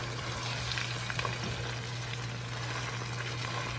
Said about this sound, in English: put it on a low heat and mix it all together